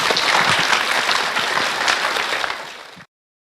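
Audience at a youth awards event in Toronto bursting into sustained applause, a dense wash of clapping that holds steady then fades and cuts off after about three seconds.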